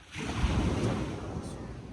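Ocean waves wash onto a beach during a family vacation, a steady broad roar of surf with some wind buffeting the microphone, fairly close and continuous.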